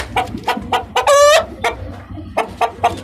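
A rooster crows loudly once amid a series of short, repeated hen clucks, close by with farmyard background noise.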